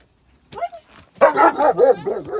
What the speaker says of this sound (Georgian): ერთმა ძაღლმა კინაღამ გადამკლაპა